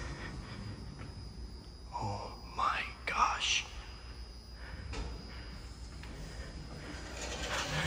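A rare ThyssenKrupp ISIS elevator runs at Saint Ignatius Hall, John Carroll University, giving a steady low mechanical hum with faint whirring and a few brief clicks, while people speak softly partway through.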